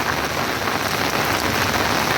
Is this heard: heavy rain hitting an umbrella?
yes